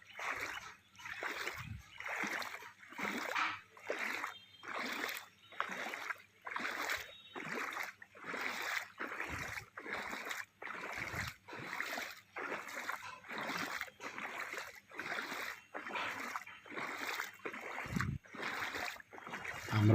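Flood water on a village road in Silchar, Assam, splashes in a steady rhythm of about twenty regular surges, like paddling or wading through the water, moderately close with no talking.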